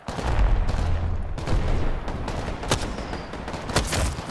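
Gunfire from the video game Apex Legends: a steady stream of rapid shots and low booms fills the clip, with a couple of sharper cracks standing out near the end and no talking.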